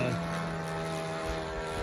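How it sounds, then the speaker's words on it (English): An OS 110 Alpha four-stroke engine running in a Balsa USA Phaeton II model airplane, holding a steady loud drone with a strong buzzing tone and propeller hum, heard up close. "It's got a OS 110 Alpha pumped 4-stroke in it."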